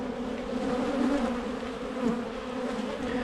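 Agitated honeybees buzzing loudly around an open hive during an inspection after smoking, a dense, steady droning swarm close by with no talking.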